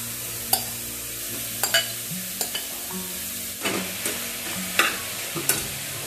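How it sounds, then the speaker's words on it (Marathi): Grated carrot stirred dry without ghee in a pressure cooker, a soft steady sizzle with scraping spatula strokes every second or so, close and alone. "डायरेक्ट जो हा किस आहे तो मी आता 2 मिनिटं परतून घेते."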